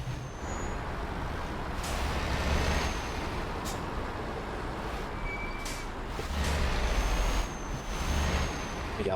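A car engine drones steadily up close while the driver accelerates a little for a drift demonstration, the rumble swelling slightly at times, with no talk.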